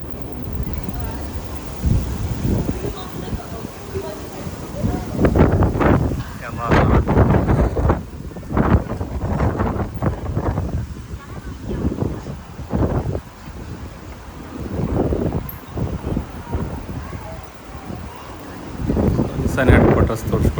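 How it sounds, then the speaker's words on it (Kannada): Gusty wind buffeting the microphone in heavy rumbling bursts, with someone talking intermittently over it, outdoors in Yokohama, Japan. "ನೋಡಿ ಇವತ್ತು ಹೆವಿ ಗಾಳಿ ಐತಿ ಇವತ್ತು"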